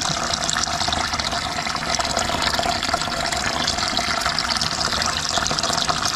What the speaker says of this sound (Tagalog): Nalitan namin ng tubig yung kanyang lagayan